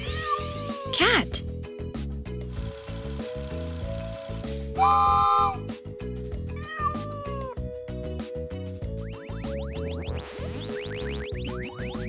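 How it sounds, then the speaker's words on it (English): A cartoon cat meows amid a busy, musical backdrop with other chirpy sound effects, loud and close. "Cat."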